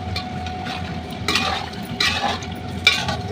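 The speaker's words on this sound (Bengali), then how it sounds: "এই যে হাঁড়িতে এইভাবে কষাচ্ছি" Mutton for mutton biryani being stirred and fried in a pot, a soft steady sizzle under intermittent scraping strokes of a spoon against the metal, close by with no talking.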